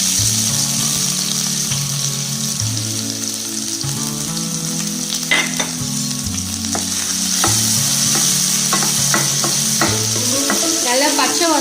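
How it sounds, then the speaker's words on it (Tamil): Crushed ginger and garlic sizzle in hot oil in a pan, a loud continuous frying hiss with occasional stirring scrapes and clinks, no talk. "எண்ணெய் விட்டதும் இந்த இஞ்சி பூண்டு நறுக்கி வச்சு தட்டி வச்சிருக்கிறத இதை சேர்த்துக்கலாம்"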